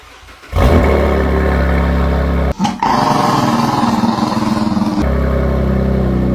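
A Cadillac ATS-V with a twin-turbo V6 and a newly installed exhaust cranks and fires up, then settles into a loud, deep, steady idle with a brief dip partway through.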